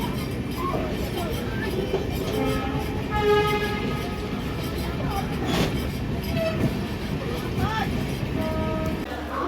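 An express train from Sealdah toward Jaipur rolls steadily along the tracks with a continuous rumble, rattling wheels and occasional squeals, while a voice talks over the noise.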